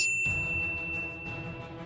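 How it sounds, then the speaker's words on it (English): A bright notification bell dings once at the start, its clear tone ringing briefly and fading over a soft, low background hum. "ring the bell to get notified about our latest videos"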